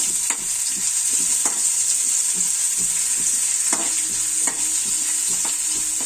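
Onions sizzle steadily in a hot pan, with a spatula scraping and stirring at irregular intervals, close and fairly loud.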